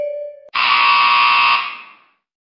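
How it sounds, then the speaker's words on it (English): A tiller truck fire engine gives a loud, harsh alarm blast that holds steady for about a second and a half and then fades out, after a short steady tone. "Tiller truck."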